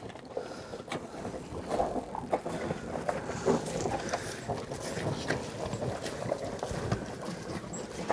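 Cows crunch on fresh apples, a steady run of close, irregular crunches and chewing clicks over a low barn background.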